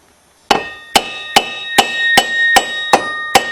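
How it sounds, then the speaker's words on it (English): A hammer taps a Suzuki Z400 ATV axle to knock it out: eight sharp, ringing metallic strikes at an even, unhurried pace, loud and close, with no talk. "if I tap it here, I think the whole axle should just pop right out"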